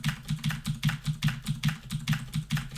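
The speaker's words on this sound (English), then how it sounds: "Don't you enjoy the asthma from my mechanical keyboard?" Rapid, evenly spaced keystrokes on a mechanical keyboard, about a dozen crisp clacks in a steady rhythm, close and fairly loud with no voice over them.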